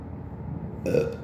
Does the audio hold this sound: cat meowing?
no